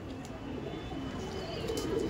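A male Madrasi pigeon coos in a loft, low murmuring calls faint against a steady background hum.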